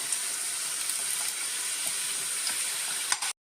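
Masala-coated peanuts fry in hot oil with a dense, steady sizzle, close up and continuous, with faint stirring ticks before the sound cuts off abruptly.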